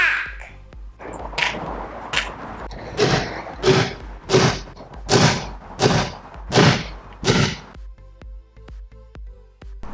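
A baseball bat strikes a replica Captain America shield over and over, with about nine loud, hard thuds landing in a fairly steady rhythm close by. There is no talk over the impacts.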